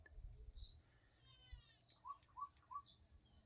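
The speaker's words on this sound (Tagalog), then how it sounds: "Natay ibon diri guys nga kaiba yung tuno guys." Several short chirping calls from a bird in a coconut tree in quick succession, moderately distant, over a quiet outdoor background with faint low rumble.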